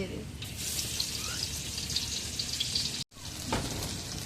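Crushed garlic fries in hot oil, giving a steady bright crackling sizzle with a brief cut near the end before the hiss resumes.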